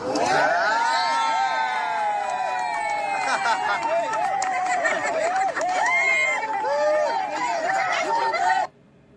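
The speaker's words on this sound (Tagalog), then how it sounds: "Tuwang-tuwa naman yung mga supporters. Hiyawan sila." A crowd of political supporters cheers and shouts together in a loud, sustained roar of many overlapping voices, cutting off abruptly near the end.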